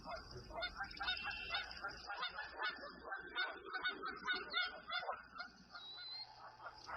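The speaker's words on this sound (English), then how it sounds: "the geese were not always welcome and came too close to the nest." Geese honk repeatedly in a noisy, overlapping chorus near a sandhill crane nest, nearby and fairly steady, with no talking.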